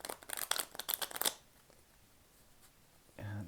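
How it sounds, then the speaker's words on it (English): Tarot and Cigana de Sorte card decks being shuffled by hand, a quick run of crisp riffling flutters up front, then near silence before a low rustle at the end. "I'm going to go ahead and shuffle up a bit on the Legitimate Tarot and Cigana de Sorte"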